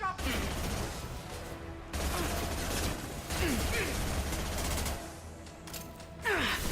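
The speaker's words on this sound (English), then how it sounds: "I love the SMG so much." Rapid submachine-gun fire from the video game Mass Effect 2 rattles in dense, loud bursts, broken by brief pauses and layered with game effects and in-game voices.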